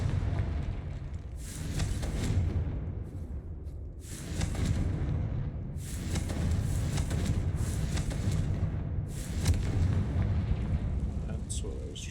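Confringo fire spell explosions in Hogwarts Legacy: a series of heavy, booming blasts about every two seconds, each a loud burst that fades into a rumbling tail over a steady low background.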